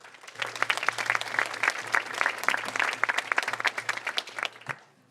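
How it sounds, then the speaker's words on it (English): Applause from a modest audience at a conference keynote at a data event, with distinct individual claps crackling close and fairly quiet, a scattered round that fades out at the end. "Let's give her a round of applause."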